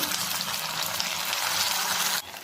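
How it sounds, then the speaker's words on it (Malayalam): Rava mini vada, small semolina fritters, deep frying in hot oil with a steady, loud, close crackling hiss that continues without talk before dropping away near the end. "ഇനി ബാക്കിയുള്ളതും കൂടെ നമുക്കിതുപോലെ ഫ്രൈ ചെയ്ത് എടുക്കാം കേട്ടോ"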